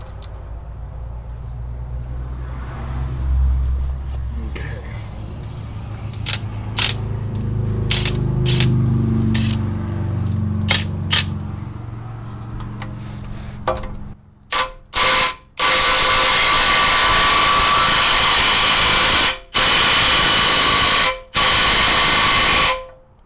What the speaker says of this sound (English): I'm just going to use my impact gun to put it on.